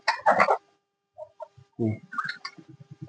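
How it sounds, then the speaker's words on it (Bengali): Chickens of the Ulluk breed, five roosters and two hens, cluck and a rooster calls nearby in short bursts, with quiet pauses between them. "এই যে পাঁচটা মোরগ হয়েছে আর দুইটা হলো মুরগি হয়েছে"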